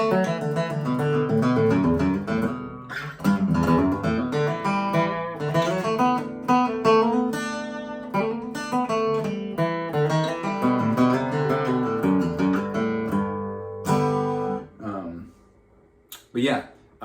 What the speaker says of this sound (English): It's just a very loud guitar, very out there.